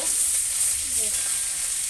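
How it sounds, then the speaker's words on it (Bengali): Small rohu fish fry in hot oil, making a steady, close sizzle with light stirring throughout. "ওই মাছগুলো ভেজে নেব চলো"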